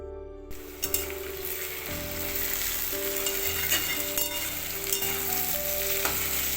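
Potatoes fry in hot oil in a home kitchen pan, a steady bright sizzle running throughout, with occasional stirring clinks and light scraping close by.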